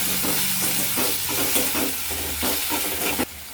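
Chopped tomatoes hit a pan for tomato chutney and are stirred over low heat, a steady sizzle and hiss with repeated spatula scrapes throughout, ending abruptly.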